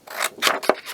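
Scissors cutting paper for crafts: three short rasping snips in quick succession, close and fairly quiet, with no talking.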